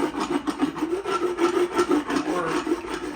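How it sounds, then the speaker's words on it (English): Hand float rasping a horse's teeth during an equine dental appointment: rhythmic back-and-forth scraping strokes, close and steady, about a dozen in quick succession, with no talking. "I typically finish every horse with hand floats"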